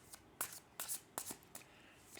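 Tarot cards are shuffled by hand, a series of soft riffling bursts and taps at an uneven rhythm, close and quiet.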